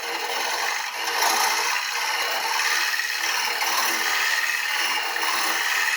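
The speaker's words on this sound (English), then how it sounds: "use the 3/8 bowl gouge and use that bevel and just take that flat edge off here" A 3/8 bowl gouge cuts a wooden bowl spinning on a lathe, making a continuous, loud, close hissing scrape with slight rhythmic swells, with no voices.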